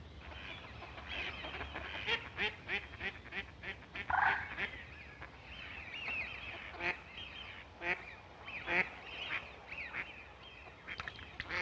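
Mallard ducks quack on a pond among lily pads and duckweed, a steady run of nasal calls repeating over soft background noise, some louder and closer than others.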